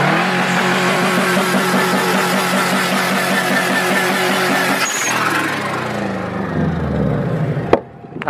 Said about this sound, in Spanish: Sonando el Subaru.